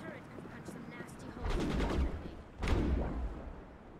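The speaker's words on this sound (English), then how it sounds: "That turret can punch some nasty" Turret gunfire in Mass Effect, two loud bursts of rapid shots, the second sharper and louder, over low game ambience.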